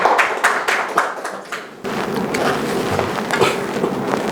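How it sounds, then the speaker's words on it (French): Audience at a graduation ceremony applauding, sparse individual claps at first, then a denser, fuller round of clapping that carries on steadily at moderate volume. "je vous demanderai d'applaudir"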